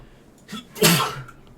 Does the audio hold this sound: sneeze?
yes